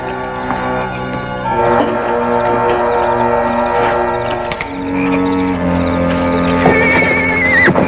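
Spooked horses in Oklahoma Territory neigh and whinny loudly and close by, several shrill calls overlapping with restless hoof clatter.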